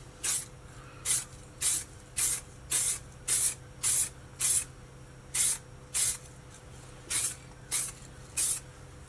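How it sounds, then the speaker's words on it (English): Short bursts of aerosol spray paint hiss from a shaken tin, about a dozen separate sprays in an uneven rhythm with brief pauses between, close and fairly loud over a quiet room. "And I've already got overspray."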